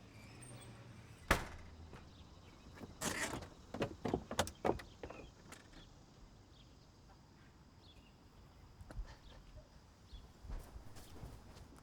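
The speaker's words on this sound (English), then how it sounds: "Damn it, Sugar, I can hear you opening up the back door." A back door of a house is opened, giving a sharp knock followed by a cluster of clattering, scraping bumps and rattles, fairly quiet and close with hushed background and a few later soft thuds.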